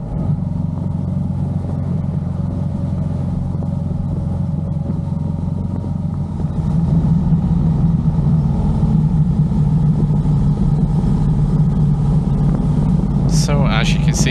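Honda Hornet motorcycle engine droning steadily while riding, a continuous loud low rumble that swells slightly as the engine picks up, with a brief higher sound near the end.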